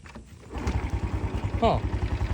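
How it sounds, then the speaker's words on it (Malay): A Honda Wave DX 110cc motorcycle engine fires up and settles into a close, steady low putter with rhythmic pulses, with a brief higher whine partway through. "Mari kita start be dengan enjin dia."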